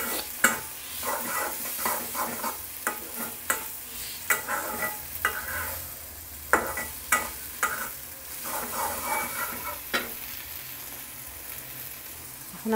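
Fish bharta sizzles in a pan while a spatula repeatedly scrapes and stirs it, with sharp clicks and scrapes spaced irregularly over a steady frying hiss, heard close with no talking.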